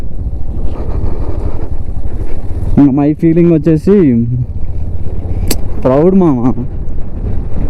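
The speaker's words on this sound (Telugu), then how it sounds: "ఇక్కడ మాత్రం గాలి ఘోరంగా ఉంది." Strong wind roars and buffets the microphone on a high Ladakh mountain pass during a solo 125 cc motorcycle ride. The low rumble runs steadily throughout while someone talks over it.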